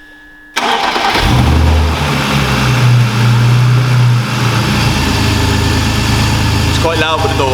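A car engine cranks and catches after a fresh oil change, then settles into a loud, steady idle heard close up with the door closed, a brief rev early on before the idle evens out.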